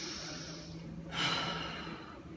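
A person demonstrates a deep breath taken the wrong way, a single loud, sharp inhalation that rises suddenly midway through and then trails off, heard close and alone against a steady background hiss.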